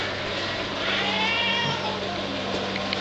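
A cat meows and yowls in drawn-out, wavering cries, harsh and close, over steady background noise, with a person faintly audible nearby.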